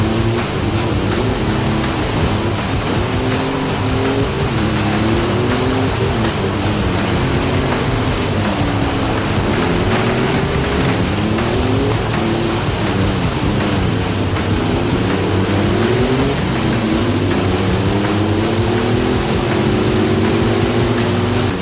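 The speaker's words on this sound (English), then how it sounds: "The track kicks off with a long, bumpy straight, full throttle in the Bronco" A Ford Bronco engine roars at full throttle across bumpy off-road terrain in a racing video game, a steady loud drone with repeated rising and falling revs and no talk.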